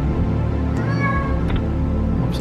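A cat meows in the Lone Survivor video game, one drawn-out cry over a steady low hum of game background sound.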